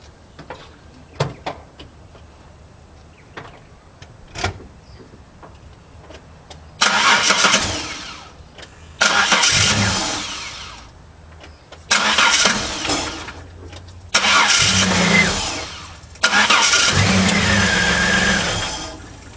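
A car with a VR engine is started after an oil change. A few faint clicks and knocks come first, then four or five loud bursts of cranking and engine roar with short pauses between them.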